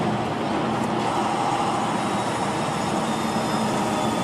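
A heavy truck downshifts on an exit ramp with its Jake brake engaged, a steady rumbling engine drone heard from the cab, continuous and moderately loud with no talking.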